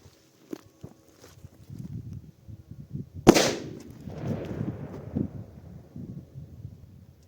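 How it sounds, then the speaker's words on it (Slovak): A Small Silver Crackers firecracker set off outdoors at dusk gives one sharp, loud bang with a rolling echo. Faint shuffling and footstep-like rustle come before and after it. "Teraz ide Small Silver Crackers."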